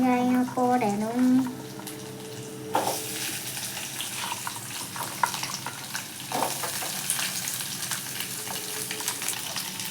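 Garlic and onion sautéing in a pan for coriander chutney, a close sizzle with scraping stirs and occasional clatters, after a brief voice-like sound at the start; moderately loud throughout.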